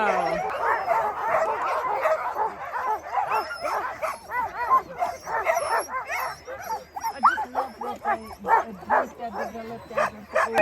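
A large pack of sled dogs barks, yips and whimpers excitedly before a dog sled run in Alaska, a dense overlapping chorus of near and far voices with rhythmic bursts building toward the end.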